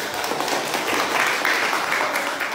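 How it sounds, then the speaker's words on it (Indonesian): Sustained applause from a crowd, many hands clapping in a dense, even patter at moderate volume for the whole stretch. "Oke, tepuk tangan untuk teman kita."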